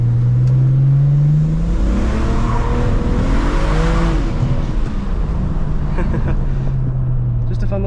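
A car engine runs loudly up close from inside the vehicle, revving and rising in pitch as it accelerates, then settling, with someone talking over the engine noise.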